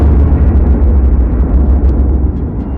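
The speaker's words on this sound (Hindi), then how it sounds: "बीच के इस भयंकर दबाव के कारण एक विशाल विस्फोट हुआ" A huge explosion at the birth of the sun, rendered as a loud, deep, continuous rumbling roar that surges slightly and holds steady throughout, with no voices.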